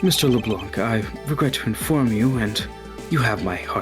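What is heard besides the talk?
No everyday noises stand out.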